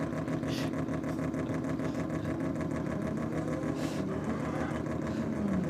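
A fast English car fitted with a Japanese engine and a Holden differential runs at a steady idle, its rhythmic mechanical drone close and continuous, alone for the whole stretch.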